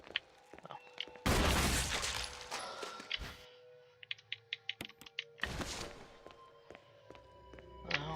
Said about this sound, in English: we'll just blow him up with a flash grenade